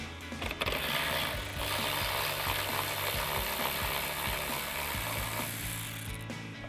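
A socket ratchet loosens a 10mm bolt on the core support of a 2018-2023 Mustang GT, its rapid clicking pawl running steadily up close in a quiet workspace.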